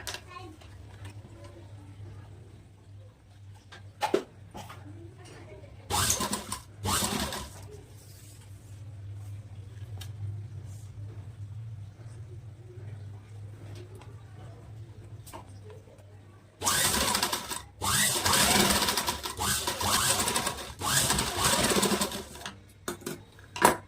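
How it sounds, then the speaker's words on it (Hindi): A sewing machine stitching the seam of a princess cut blouse, with a short burst near the start and a longer, loud continuous run toward the end, separated by quieter stretches. "यहाँ से स्टिच लगा देंगे हम"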